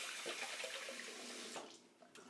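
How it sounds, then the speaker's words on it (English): A bathroom tap runs, water splashing steadily as a face is rinsed after a shave with a slant razor, the flow cutting off briefly near the end before resuming. "All right, let's rinse off."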